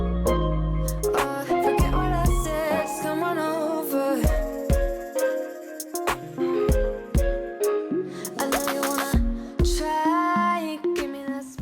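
A drum beat plays at home, with rhythmic kick and tom hits mixed under melodic musical tones, steady and moderately loud through the whole stretch.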